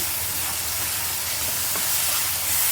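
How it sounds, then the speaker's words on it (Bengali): Dried fish frying in a pan with garlic paste, onion paste and salt, giving a steady, continuous sizzle and hiss that runs unbroken at even loudness before cutting off abruptly at the end. "এগুলো শুটকির লাগে একটু ভাজা ভাজা হইতে দিলাম"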